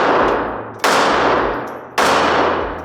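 A Glock 42 .380 pistol fires three sharp, loud, close shots about a second apart, each ringing out and fading before the next, with no talk.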